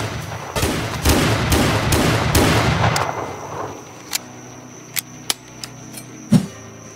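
Gunfire in a Roblox Wild West game: a rapid volley of loud booming shots for about three seconds, followed by a quieter stretch punctuated by several isolated sharp cracks and one heavier thump.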